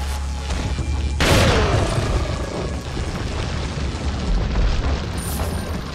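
An incendiary grenade bursts in Resident Evil 4 with a sudden loud boom, then a roaring, crackling wash of fire that lingers for several seconds before a second flare near the end.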